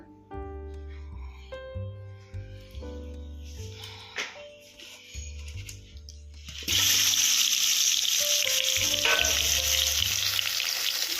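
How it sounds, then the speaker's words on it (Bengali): Bok fish pieces drop into hot oil in a wok and set off a sudden loud, dense sizzle that continues steadily to the end, after a stretch of tonal music. "এবার আমি মাছগুলোকে আগে ভেজে তুলবো।"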